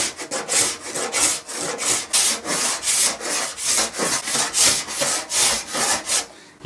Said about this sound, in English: When you're scraping, you can, so that's where there's no finish on, it just glides, and as you scrape you can feel it dragging.